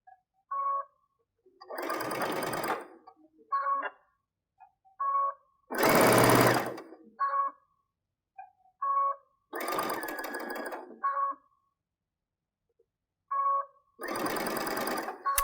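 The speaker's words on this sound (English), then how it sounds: "So we're just going to just stitch them together." A sewing machine stitching patchwork fabric for stockings with a quarter-inch piecing foot runs in several bursts of rapid mechanical whirring, each lasting one to two seconds, separated by pauses with small clicks and taps between runs.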